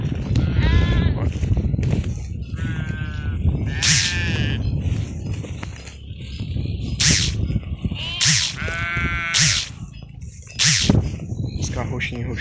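Sheep on a farm bleat repeatedly and close by in light rain, with several wavering, overlapping calls rising and falling throughout.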